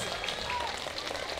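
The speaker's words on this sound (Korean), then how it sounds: "여러분들 다시 한번 박수를 부탁을 드리겠습니다" Audience applause for a girls' middle-school dance team at an outdoor spring flower festival youth dance contest, a steady dense patter of many hands clapping at moderate distance, continuous for the whole moment.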